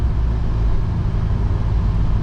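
A $1500 Mitsubishi Eclipse being driven, its engine a steady low rumble heard from inside at close range with no gaps and no talking.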